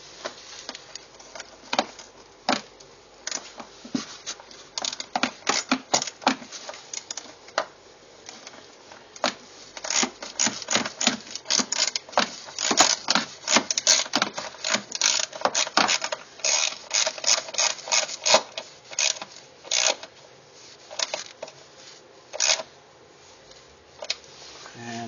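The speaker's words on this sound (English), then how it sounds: "Ratchet." A ratchet tightens a 10mm bolt while a mud flap is fitted to a 2009 Hyundai Accent, giving rapid close clicking in steady bursts that speed up and pause over about twenty-five seconds, with no voices.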